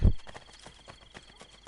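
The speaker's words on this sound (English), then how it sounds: "There's a horse." In the Assassin's Creed Brotherhood video game, a horse's hooves clop faintly in a loose, steady rhythm after a brief low thump at the start.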